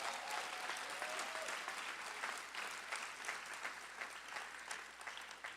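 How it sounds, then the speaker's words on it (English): Sustained applause from a large crowd of graduates and guests at a commencement ceremony, dense steady clapping that fills the space for several seconds with no talk over it. "I want you to give yourselves a round of applause for what you're achieving today"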